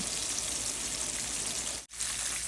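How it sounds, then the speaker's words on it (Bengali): Chicken pieces fry in oil over low heat, giving a steady, even crackling hiss like light rain that briefly drops out near the end before resuming. "এখন আমি লো হিটে আমি ফ্রাই করব"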